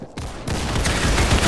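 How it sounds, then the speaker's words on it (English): Gunfire in the Roblox Criminality video game crackles as a rapid burst of close, loud shots filling most of the moment after a brief quiet start. "I'm getting shot from the back."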